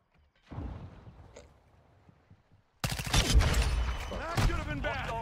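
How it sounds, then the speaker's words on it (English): Gunfire in a video game, a dense rattling fusillade of shots and impacts that bursts in loudly after a quieter stretch with faint thumps and a voice, then continues close and heavy until the end. "Like, someone around the corner firing at me, knowing where I was standing."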